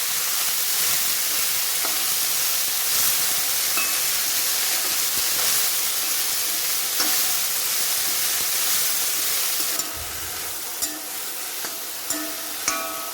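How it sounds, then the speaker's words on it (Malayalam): Drumstick flowers sautéing in hot oil for a leaf thoran, a loud, steady sizzle and hiss close up, with occasional stirring scrapes and taps of a spoon in the pan. "എണ്ണയ്ക്കകത്തിട്ടൊന്ന് മുരിങ്ങപ്പൂ നമ്മൾ വഴറ്റിയെടുത്തിട്ടുണ്ട്"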